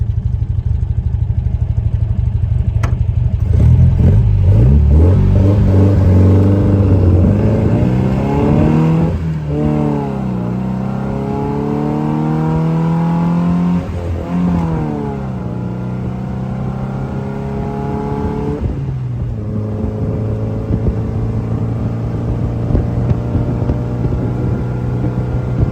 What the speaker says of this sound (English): Such a good little car, shifts through all the gears the right way, just a great running driving car